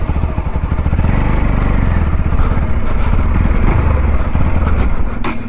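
A motorcycle being ridden through water, its engine prone to stalling, chugs loudly and close in a steady, rough, pulsing rumble.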